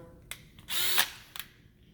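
A cordless power drill from a Harbor Freight toolbox set revs in a short whine of about half a second, with quick clicks just before and after, close and loud, no talk.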